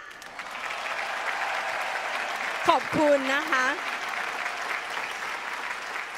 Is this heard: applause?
yes